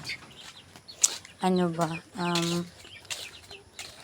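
Two loud bursts of clucking from chickens stand out over quiet background, with faint scattered chirps and clicks around them.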